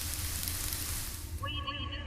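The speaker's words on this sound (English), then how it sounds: "The bacon sizzling sound, just came to me one day" Dense crackling sizzle of frying bacon in the video game Five Nights at Billy's, loud and continuous, with a brief electronic tone pattern rising over it in the final half second.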